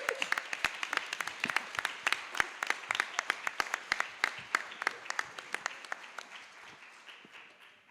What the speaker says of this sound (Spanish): Bueno, un aplauso más total.